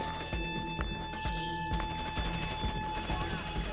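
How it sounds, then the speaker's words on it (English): Rapid sustained gunfire from a minigun in the video game GTA 5, a dense crackling burst running throughout at steady loudness amid other game sounds. "Oh boy, I hear a minigun."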